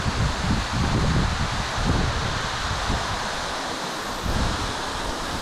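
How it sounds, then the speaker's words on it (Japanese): A steady, dense roar of water falling down a nearly vertical cliff at Onikura Samata Falls in Kumano, Mie, Japan, the outer flow misting into spray, constant and full, with no voices. "ほとんど垂直に近い岩壁から流れる水は外側の方は霧化してしぶきとなり辺りを潤していきます"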